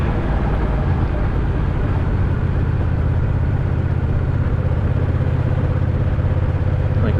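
A 2025 Honda Rebel 1100T motorcycle engine hums steadily at cruising revs, a constant loud drone mixed with rushing wind throughout.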